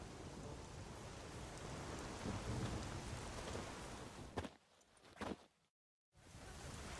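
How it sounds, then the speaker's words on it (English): Steady rain pours in The Witcher video game, a dense continuous hiss with low rumbling thunder beneath, broken briefly near the end by a short dip and a moment of silence before the rain resumes. "There's no point standing here in the rain."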